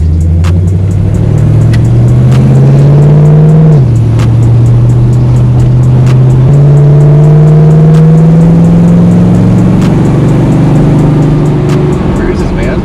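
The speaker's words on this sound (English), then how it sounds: "Let's go for a quick little test drive and just see how it feels." A 1966 Chevelle with a 350 engine and automatic transmission cruises on a test drive, its low engine drone steady and loud with a shift in pitch partway through, and some talk over the running car.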